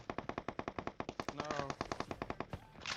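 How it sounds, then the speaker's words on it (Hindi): Automatic gunfire in PUBG Mobile rattles off as a fast, even stream of loud shots for three seconds, with a brief word spoken partway through. "और उतने में ही फायरिंग चालू होती है।"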